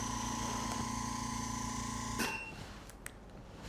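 The motor of a skin booster injection gun used for a Teosyal Redensity I treatment runs as a steady, close, whining hum, then cuts off with a small click, leaving quiet handling noises.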